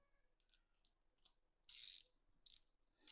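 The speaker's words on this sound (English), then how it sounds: "And then we're just going to tighten up these nuts here." Wrench tightening nuts on gym cable machine cables, with short bursts of metallic ratcheting clicks, a couple of longer loud runs in between, fairly close and with no talking.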